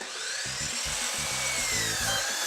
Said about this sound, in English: we just cut this top rail using a 12-inch miter saw